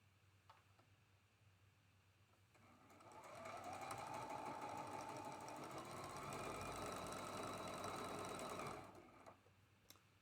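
A sewing machine stitches pieced quilt blocks in one steady run of about six seconds, its fast even needle chatter close and clear in a quiet room.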